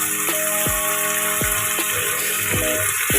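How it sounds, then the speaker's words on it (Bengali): A bowl is rinsed and a little water added while cooking mustard-sauce pabda fish, with soft running and splashing water, several sharp clinks and a steady background hiss. "এবার আমি এর মধ্যে বাটিটা ধুয়ে অল্প একটু জল দিয়ে দিচ্ছি।"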